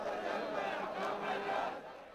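A huge crowd of Shiite pilgrims heading toward a mosque makes a faint, sustained roar of voices and chanting that swells and ebbs without a break.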